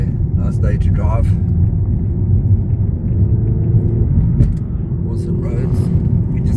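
Car driving on a mountain road near a small town, a loud steady engine and road rumble throughout, with someone talking over it.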